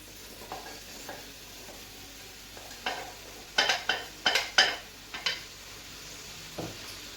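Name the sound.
cut okra being stirred and fried in a pan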